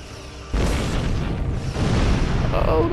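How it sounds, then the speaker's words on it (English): In a Star Trek space combat video game, a sudden loud burst of weapon fire and explosions hits the ship, a dense rumbling blast that holds for a few seconds after a quieter lead-in. "Oh, they're shooting at me."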